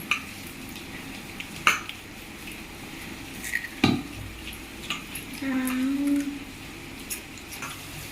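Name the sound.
mixing chopped onions into bajji batter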